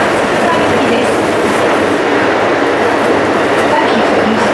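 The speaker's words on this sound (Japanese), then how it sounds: "This is a local train for Tsukuba." A Tsukuba Express TX2000 local train running between Akihabara and Kita-Senju, with a loud continuous rumble of wheels and motors and a faint rhythmic clack from the rails, heard from inside the car.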